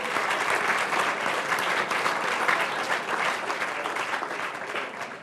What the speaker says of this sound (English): So let's give them all a round of applause as well.